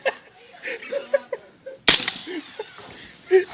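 A single suppressed 9mm AR-15 shot at an outdoor pie plate target cracks out sharply midway, set among nearby laughter and chuckling from several people.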